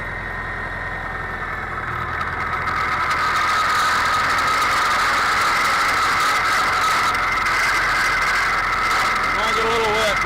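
A 1977 International Cub tractor engine chugs steadily and loud nearby while driving, with rattling mechanical noise throughout and a slight rise in level partway through.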